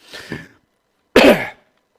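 Two coughs, close and alone: a softer throat-clearing cough, a brief silence, then a louder, sharper one.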